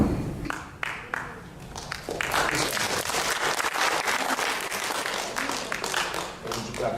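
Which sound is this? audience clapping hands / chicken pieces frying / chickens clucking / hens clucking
audience clapping hands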